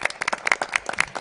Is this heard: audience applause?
yes